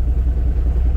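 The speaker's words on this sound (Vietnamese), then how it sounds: "Đề phát ăn ngay. Đấy, máy nổ rất là giòn" A 2004 Isuzu Hi-Lander 2.5 turbo diesel engine idles with a steady, low, rumbling clatter, close and continuous.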